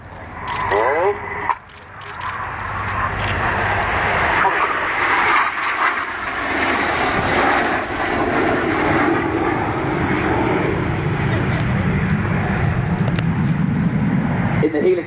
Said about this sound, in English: As those aircraft swing out like a pendulum, they start a manoeuvre called the helix.